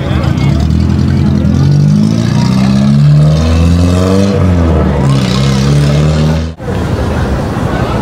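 A Chevrolet Corsa engine revs repeatedly at a street gathering, rising and falling in loud close bursts with rapid pitch sweeps, while people talk over it.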